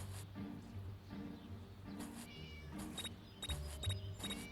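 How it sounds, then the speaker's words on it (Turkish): A video game cat meows several times in short repeated calls, fairly faint, over a quiet background hum. "Kedinin sesi gitti ama"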